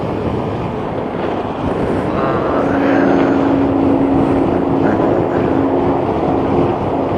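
A 2006 Yamaha FJR1300A motorcycle accelerates on an open road, its engine drone rising steadily beneath heavy wind buffeting on the rider's microphone.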